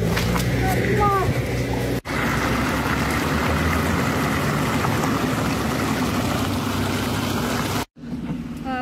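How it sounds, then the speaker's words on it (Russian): A torrent of snowmelt water pours onto a road where a tractor is working, a loud, continuous rushing roar with a low mechanical hum, briefly dipping twice, while people can be heard around it. "Вот такой бурный поток воды бежит сейчас вот на проезжую часть."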